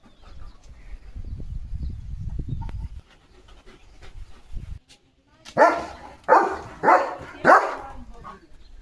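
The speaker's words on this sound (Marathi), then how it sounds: "नुसता भुंकत राहतो पोरगा" A German Shepherd barks at cattle, four loud, close barks in a steady rhythm, following several seconds of quieter low rumbling and shuffling.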